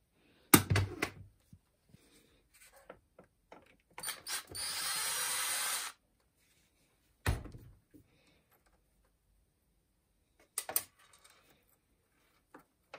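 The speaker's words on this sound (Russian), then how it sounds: "Теперь открутим данный винт, чтобы как бы провода не мешали снять вот эту крышку." Ratcheting clicks and mechanical rattles come in separated bursts as a screw is undone to remove a cover on a TOUA GSN50, with a longer steady grinding stretch in the middle and quiet gaps between.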